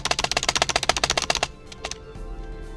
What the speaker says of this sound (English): You hear that? It's my freaking mouse.